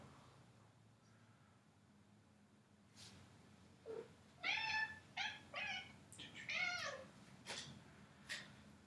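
A cat meows several times in quick, uneven bursts during a quiet beginner Hatha yoga session at home, fairly close over a soft background hum, with no talking.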